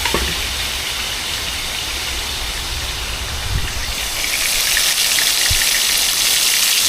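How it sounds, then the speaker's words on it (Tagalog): Steady heavy rain pours continuously, a dense hiss that grows a bit stronger partway through, with occasional low thumps beneath. "lumalakas na ang ulan. Lumalakas na masyado."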